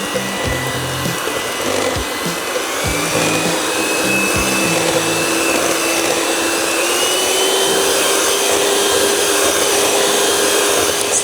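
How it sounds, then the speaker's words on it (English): An electric mixer whirs loudly and continuously, whipping cream to soft peaks for no-churn Scottish tablet ice cream, with a steady motor drone and faint rhythmic clatter at the start. "next I'm going to use my mixer to get peaks in here"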